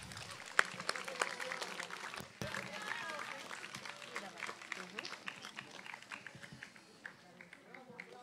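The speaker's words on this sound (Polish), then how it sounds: "Wielkie brawa!" Audience applause at a summer camp's final show, scattered clapping and crowd noise that starts with a few sharp claps, stays fairly even, then thins out toward the end.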